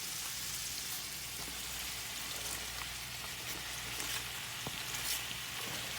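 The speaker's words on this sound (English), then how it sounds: "now I'm going to start adding my cabbage." Cabbage frying in a pan in a home Southern kitchen, giving a steady soft sizzle with faint crackles throughout, no voices.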